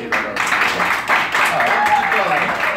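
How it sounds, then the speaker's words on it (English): Street crowd at a live improv comedy show in Times Square applauding performers as they sit down, a steady moderate clapping wash with voices and chatter over it. "give them this round of I applause."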